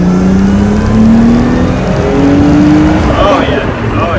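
Nissan 240SX with an RB20 engine and upgraded RB25 turbo, engine droning and rising steadily under load from inside the car, loud and continuous, with a blow-off hiss and chatter toward the end and someone talking over it.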